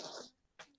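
A short, sharp sneeze close by, followed by a brief pause and a second quick burst of breath.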